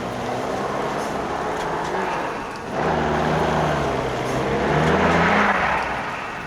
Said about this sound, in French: une patrouille militaire arrive